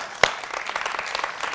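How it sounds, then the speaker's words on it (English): Audience applause rises steadily for a volunteer called up at a circus show, a sharp clap or slap standing out near the start before the dense, fairly close clapping carries on evenly. "Give him a big round of applause"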